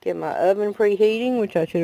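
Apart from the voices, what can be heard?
None of the usual background noises is heard.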